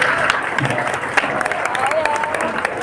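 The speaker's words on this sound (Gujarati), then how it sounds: "Huge round of applause." Dense audience applause fills a farewell event for a departing student, steady and close throughout with a few louder claps standing out and faint voices mixed in.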